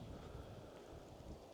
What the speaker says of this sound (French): le bruit du vent entre les branches d'arbres là au-dessus